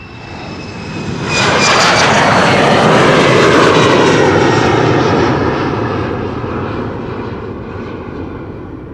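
A TUI wide-body airliner takes off at Amsterdam Schiphol, its engine roar swelling sharply after a second, peaking loud and close, then slowly fading as it climbs away.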